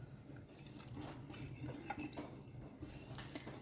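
Ragi (finger millet) flour being mixed by hand in a bowl, with soft scraping, stirring and light clinks of a spoon or dish, steady and close, no talk.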